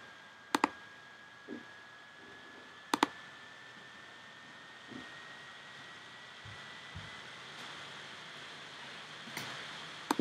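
Computer mouse clicks while signing into an email account, a few sharp isolated clicks spaced seconds apart over faint steady background hiss.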